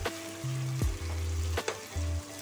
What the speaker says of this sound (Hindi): अब ये टमाटर को भून कर ले लेंगे, ये टमाटर गलने तक इसको पका लेंगे।